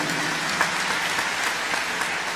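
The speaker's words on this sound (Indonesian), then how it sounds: "beri tepuk tangan untuk Tuhan Yesus." Church congregation applauding during a sermon, a dense, even wash of many people clapping at moderate volume, sustained without a break.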